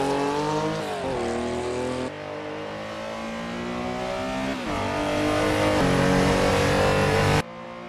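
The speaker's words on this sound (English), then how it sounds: "Precision on the edge before opening up the throttle for the straight." A Porsche RSR 3.0 race car engine revs hard and accelerates onto a straight, loud and close, with rising pitch sweeps and gear changes across the whole run before cutting off sharply near the end.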